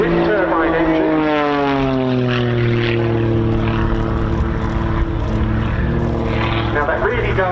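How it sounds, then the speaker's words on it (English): A propeller biplane fitted with two small Lynx jet turbine engines drones loudly at an air show, its steady engine tone shifting slightly as it passes, with a commentator's voice running underneath. "You've got a biplane with a propeller and 2 jet engines."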